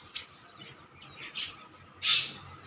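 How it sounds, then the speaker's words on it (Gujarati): Many birds gathered outdoors to feed chirp near and far. Scattered short tweets lead to a louder close call near the end. "જો અત્યારમાં કેટલા પક્ષી આવ્યા છે."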